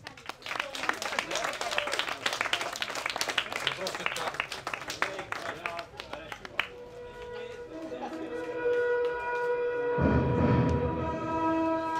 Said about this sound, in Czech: Zatleskáme našim nejmladším závodníkům